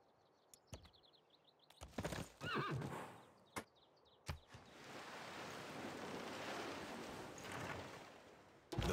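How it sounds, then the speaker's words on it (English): A horse in the Civilization VI video game whinnies loudly after a few clip-clop hoof steps, followed by a rushing ambient wash like surf, with no talking. "Hey, I found a horsey."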